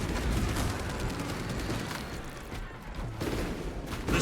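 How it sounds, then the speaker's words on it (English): A fragmentation grenade detonates amid continuous gunfire and explosions during a Space Marine 2 battle against Tyranids, with dense, loud rumbling bursts running through the whole stretch and a sharp blast near the end. "Fragmentation grenade deployed."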